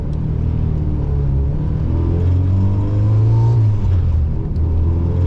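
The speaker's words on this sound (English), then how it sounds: "Car sounds pretty good." Honda Civic EK hatchback with an H2B engine, running on Mickey Thompson tires, accelerating through the gears with a loud, steady engine drone that rises, drops at a shift and climbs again, heard from inside the car.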